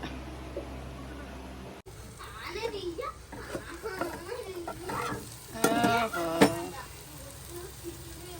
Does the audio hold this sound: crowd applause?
no